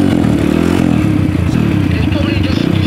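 A freshly repaired engine runs steadily with a continuous, close, mid-pitched drone and a rattly clatter throughout, while people talk over it.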